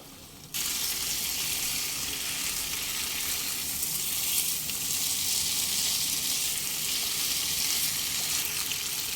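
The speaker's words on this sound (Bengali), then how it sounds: "সমস্ত মশলার সঙ্গে সিদ্ধ করে নেওয়া এঁচড় আরও চার থেকে পাঁচ মিনিট খুব ভালোভাবে কষিয়ে নিতে হবে" Boiled jackfruit sautéed with spices in a hot pan, a loud, steady sizzle that starts abruptly and continues evenly, with faint stirring scrapes underneath.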